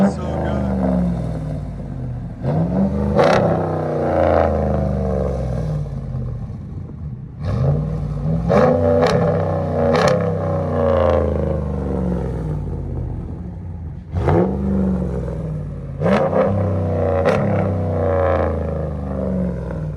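A 2014 Ram 1500 with the 5.7L Hemi V8, Carven R-Series exhaust and resonator delete revs repeatedly, each deep rumbling rise and fall of exhaust note coming in a separate burst, with people talking over it.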